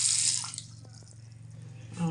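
Water gushes strongly from a bathroom sink tap in a house, a steady rushing hiss that is loudest at the start and swells again at the end, with a low hum underneath.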